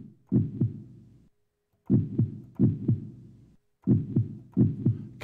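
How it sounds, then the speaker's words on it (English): Sampled heartbeat effect from an iOS sampler synth plays as deep, thumping double beats, lub-dub pairs repeating in a steady rhythm with brief silences, close and clean. "Heartbeats."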